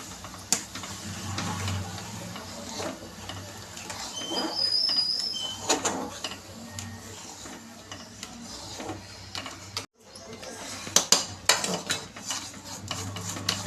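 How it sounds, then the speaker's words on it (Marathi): A spoon stirs rava and coriander batter for mendu vada in a bowl, producing repeated scraping and clinking strokes of varying loudness with a brief pause midway. "आता हे आपण नीट मिक्स करून घेतोय"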